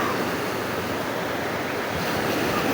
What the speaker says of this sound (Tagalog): kay kusog kayo ang balod